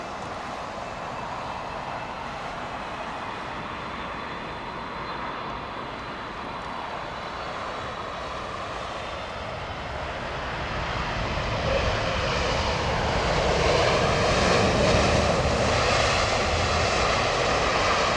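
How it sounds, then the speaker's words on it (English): A Boeing 787 Dreamliner rolling down the runway during intense rain, a broad, steady jet engine roar heard from a distance that swells louder in the latter half. "That Dreamliner is rolling right now"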